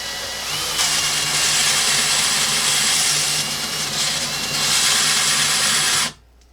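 A belt sander grinding the end of a metal rod for a custom RC trophy truck tube frame, a loud continuous abrasive whine with surging pressure, running for about six seconds before cutting off abruptly.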